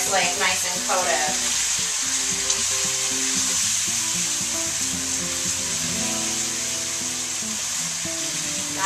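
Tofu pan-fries in too much oil, sizzling and splattering loudly and continuously, with crackling pops and the scrape of stirring throughout.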